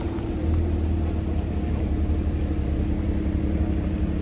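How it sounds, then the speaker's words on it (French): A Porsche race car engine at a Paris supercar gathering, heard as a steady low rumbling drone that holds at an even loudness without rising revs. It sounds moderately near, with no voices over it. "Sur cette Porsche ça fait du bruit. On va écouter ça."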